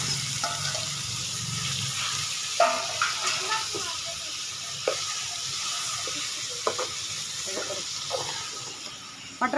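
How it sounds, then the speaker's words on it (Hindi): Minced meat frying in a pan with onion, ginger and garlic, giving a steady close sizzle and hiss with repeated stirring clatters and scrapes throughout; no voice is evident. "बिस्मिल्लाह, कीमा में डालने लगी हूँ प्याज अदरक लहसुन में"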